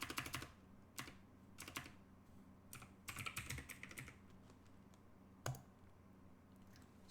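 Bursts of typing on a computer keyboard while setting up a PS3 save profile, with quick clusters of key clicks separated by short pauses and a low hum underneath, close and fairly quiet.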